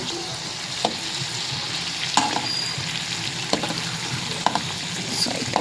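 Kadubu dumplings fry in hot oil in a North Karnataka home kitchen, giving a steady close sizzle with small crackling pops throughout and no voices.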